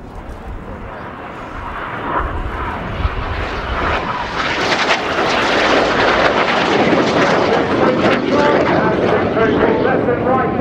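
Royal Air Force Red Arrows jets performing a flying display at RIAT 2018, a loud roaring jet engine rush that builds and swells into a sustained, dense roar as the aircraft pass close overhead.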